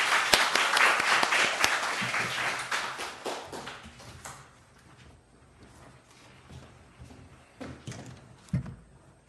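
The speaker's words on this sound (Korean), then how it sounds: "우리 선교사님 나올 때 할렐루야 하면서 박수로 맞겠습니다." A church congregation applauds to welcome a missionary to the pulpit, a dense burst of many clapping hands that is loudest at first and then thins into scattered claps and light knocks, with no talk over it.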